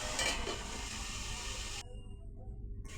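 Potato pieces for homemade fries sizzle in hot oil in a covered pan, a steady close frying hiss that runs loud and then drops to a quieter, duller sizzle partway through.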